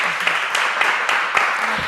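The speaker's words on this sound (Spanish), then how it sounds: "un fuerte aplauso para ellos" A crowd applauding steadily, brisk clapping filling the short stretch without pause.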